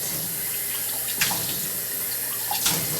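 Hot water runs steadily from a household tap into a sink, a continuous close, fairly loud splashing rush with a couple of brief sharper splashes, no voices.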